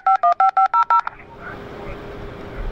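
A dial-up 56K modem dials to connect: seven quick, evenly spaced touch-tone beeps, then a hiss of line noise with faint static, heard close and alone.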